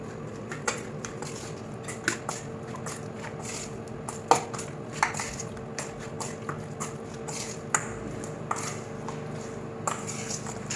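Metal utensils scrape and clink against a pan while oil is stirred into a dish for mutton, with soft irregular taps and rattles scattered over a steady low background.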